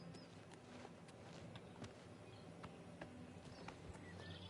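Faint, steady clip-clop of horse hooves in the video game Oblivion, a quick regular trot under low background noise, with no talking.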